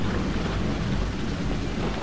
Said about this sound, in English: It just suddenly starts raining and gets dark and cloudy?